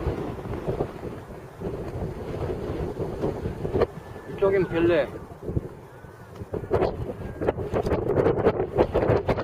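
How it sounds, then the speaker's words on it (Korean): Strong wind roars and buffets the microphone in loud, gusty rushes on the summit of Buramsan mountain, with raindrops, while a person speaks briefly over it. "바람 지금 세고"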